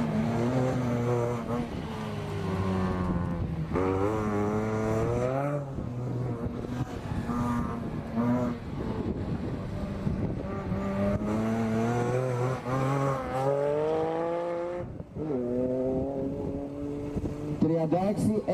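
Supercharged BMW M3 E46 driving hard on a track, its engine revving up and down through the gears in repeated rising sweeps with brief lifts between, loud and close throughout under continuous Greek-language commentary.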